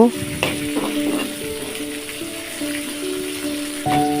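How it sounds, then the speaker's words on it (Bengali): Pumpkin peels and seeds fry in oil in a kadai over medium heat, giving a close, continuous sizzle with occasional stirring bursts. A faint steady tonal hum sits in the background. "এখন ছোকলা ও বিচিগুলো ভেজে নিব।"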